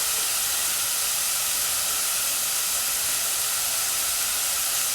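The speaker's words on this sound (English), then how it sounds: "onions sizzling away" Onions half-cooking in a hot pan for jam tarts and sausage rolls, giving a steady, loud, hissing sizzle that runs unbroken throughout with no talking.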